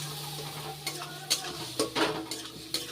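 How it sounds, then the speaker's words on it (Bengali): Ground spice paste with ginger frying in oil in a pan for a Bengali pointed gourd curry, a soft sizzle broken by several short scraping stirs and clinks of a utensil against the pan. "এই তেলের মধ্যেই দিয়ে দিচ্ছি এই বাটা মশলাটা।"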